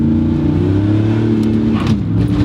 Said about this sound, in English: every time this car shifts, it's so vicious.